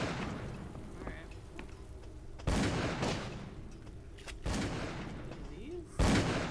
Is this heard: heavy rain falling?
no